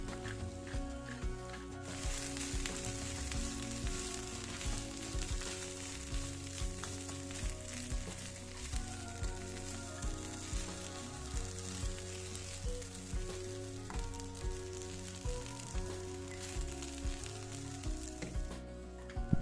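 Fried rice made with fresh rice, seasoned with black pepper, stir-fried in a hot pan with a steady loud sizzle throughout, broken by repeated scraping and tossing strokes under light background music.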